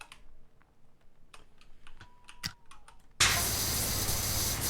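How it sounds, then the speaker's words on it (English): Computer keyboard keys click in quick, irregular bursts, close and fairly quiet, before a loud steady wash of noise abruptly cuts in and drowns everything else. "Keyboard ASMR."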